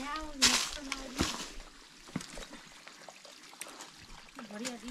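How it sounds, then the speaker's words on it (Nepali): Water trickling and splashing as containers are filled at a stop on a two-day trek to Sobang Dhuri, with voices talking throughout over the pouring. "साथीहरूले पानी भर्दै हुन्छ"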